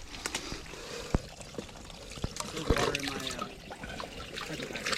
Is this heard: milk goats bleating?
no